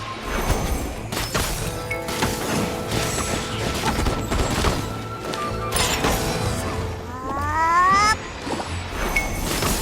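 In the video game Genshin Impact, a cat-like creature gives a string of meows and drawn-out yowls over busy combat effects, clanks and impacts, with rising tonal sweeps near the end.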